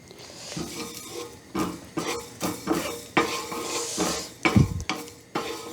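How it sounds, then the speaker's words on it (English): Ginger, onion and cilantro roasting in a pan for beef pho, heard as a run of scraping stirs and clatters of utensil on metal over a light sizzle, close and fairly loud, without speech. "This is to roast the ginger and onion, cilantro,"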